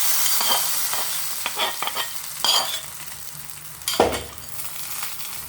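Mustard seeds and vadagam hit a hot tempering pan for kuzhambu, crackling and spluttering in uneven bursts, with sharp louder pops near the middle and end over a low sizzle.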